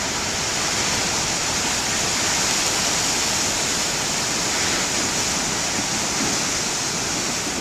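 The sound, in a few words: huge ocean waves breaking on shore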